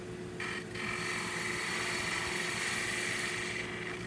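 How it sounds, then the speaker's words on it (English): A wood lathe whirs steadily while a gouge cuts a bottle stopper, giving a continuous close rasping hiss with a brief dip early on. "I roll the gouge over it, and I'm rolling on the edge. You can see the cut I'm getting."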